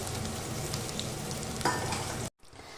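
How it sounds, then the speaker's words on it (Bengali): Close, steady sizzle of sliced onions frying in mustard oil in a kadai with a brief stirring clatter, then an abrupt cut and a quieter sizzle afterward. "কড়াইতে দিয়ে দিয়েছি সর্ষের তেল আর ওই তেলের মধ্যে আমি এই লম্বা লম্বা করে কেটে রাখা পেঁয়াজটা দিয়ে দেব"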